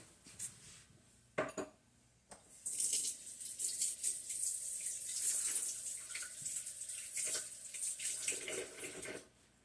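Water from a kitchen tap runs steadily into the sink for several seconds, close by and fairly loud. A few knocks of dishes come first, and no one speaks.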